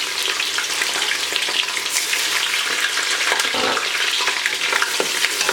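Ginger garlic paste and onions frying in about half a cup of oil, giving a steady, loud, continuous sizzle with faint stirring scrapes throughout and no voices.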